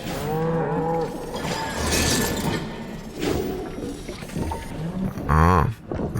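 A cow moos in the video game Atomic Heart, several drawn-out, tonal lowing calls rising and falling across the stretch, with a louder final moo near the end and game sounds between them.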